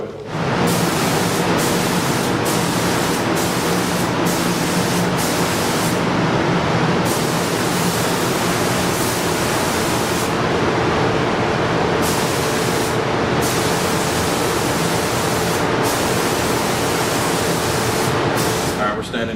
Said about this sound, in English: He's about to clear coat.